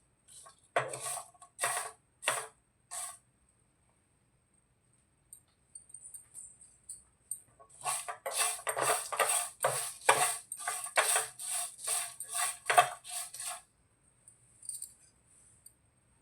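Seeds for rasam powder are dry-roasted over a low flame and stirred in a pan, making quiet bursts of dry rattling and scraping. A short flurry is followed by a pause, then a longer run of rhythmic stirring.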